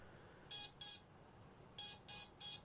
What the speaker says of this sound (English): But the motors are beeping.